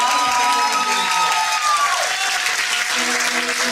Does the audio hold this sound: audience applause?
yes